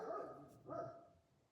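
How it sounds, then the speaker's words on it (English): A dog gives two quick barks close by, the second a touch lower and fading out, with no one talking. "Why are you barking?"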